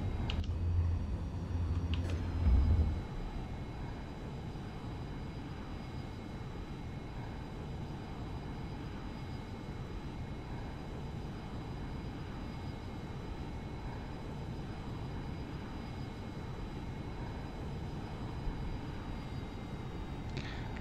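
A simulated Cirrus SF50 Vision Jet climbs after takeoff with a steady, moderate engine drone and airflow hiss, holding an even level throughout after a brief bump near the start.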